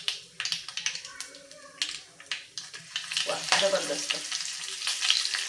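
Curry leaves and asafoetida sizzle in hot oil for a tamarind jaggery dal, with bursts of crackling and spitting that build into a denser sizzle, close and loud, with some stirring.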